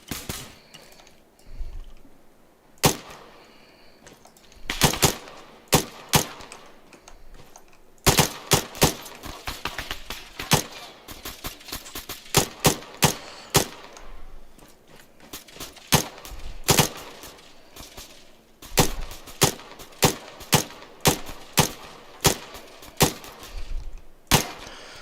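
Rapid gunfire rings out while shooting targets in an advanced close-quarters training course in the video game Arma 3, with sharp single shots and quick bursts cracking in uneven clusters alone, without talk.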